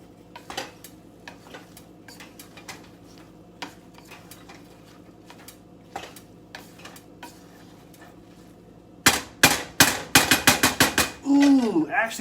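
Lentils being stirred in a pot, with scattered spoon taps and scraping, soft at first, then a rapid run of louder clanks and scraping against the pot near the end.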